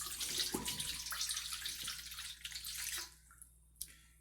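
Warm water pours into a mixing bowl for homemade challah dough, a close splashing stream for about three seconds that then thins to a few faint drips and a small final splash.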